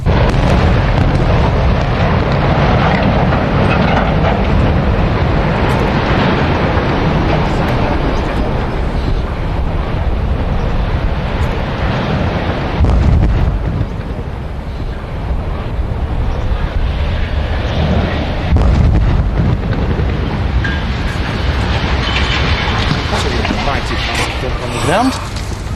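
Demolition explosive charges detonating under industrial boilers produce a loud, sustained roaring rumble with heavy wind buffeting on the microphone, and voices come through over the blast.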